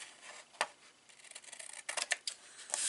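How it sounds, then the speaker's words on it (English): Scissors trimming excess cardstock off a handmade greeting card, a few soft snips and paper rustles close by, quiet and brief, with no voices. "then we can trim off the excess"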